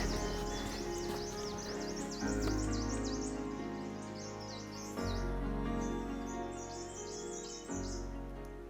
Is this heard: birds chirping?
yes